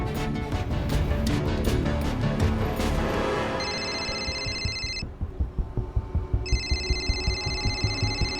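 A phone ringing in a crime drama scene, a repeated electronic ring tone in two bursts, loud over a busy music and effects bed with steady pulsing beats.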